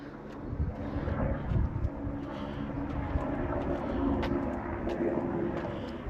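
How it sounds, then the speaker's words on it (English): Helicopter passing overhead above a high railway station platform in England, a steady low rumbling drone that swells slightly and holds throughout, loud and continuous with no voices. "With the helicopter going over now."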